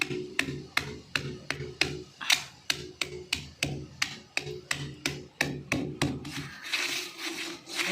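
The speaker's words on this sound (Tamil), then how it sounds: "இதை நம்ம வந்து கொஞ்சம் கொஞ்சமாக நசுக்கி அழகாக அரைச்சி எடுத்துக்கலாம்" Fried alum being crushed and ground in a stone mortar, a steady series of sharp pounding strikes roughly twice a second, close and loud, followed by a short stretch of gritty grinding.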